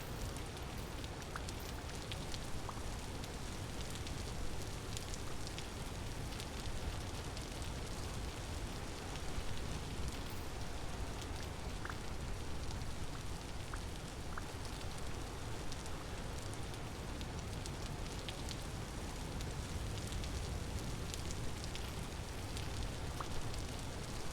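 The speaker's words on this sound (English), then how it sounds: "the rain is relentless today" Steady rain in the Vintage Story video game, a continuous even hiss of heavy rainfall with scattered droplet ticks, constant and unbroken throughout with no talking.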